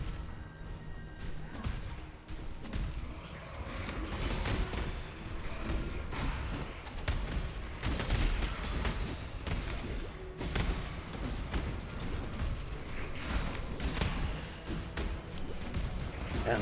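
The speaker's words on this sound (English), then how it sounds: "And look at that, those explosions." Explosions in the action game Path of Exile form a dense, unbroken barrage of crashing blasts and heavy thuds. They stay loud and steady for the whole stretch, layered with busy game noise.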